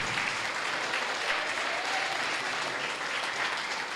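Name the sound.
church congregation applauding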